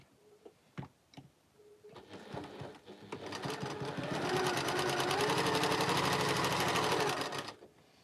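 A sewing machine stitches quilt block seams, starting with a few taps and short bursts, then running in one long, steady, close whirring run before stopping.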